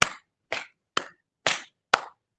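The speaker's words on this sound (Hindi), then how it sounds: "आगे भी ताली पीछे भी ताली।" Six sharp, evenly spaced hand claps during a yoga session, close and crisp with brief silences between, no talking.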